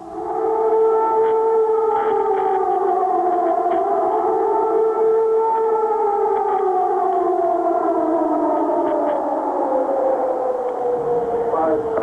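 Air raid siren wailing over Baghdad during wartime, a loud rising and falling multi-tone howl carried across the city, heard from a distance and holding steadily for over ten seconds, with a faint voice beneath.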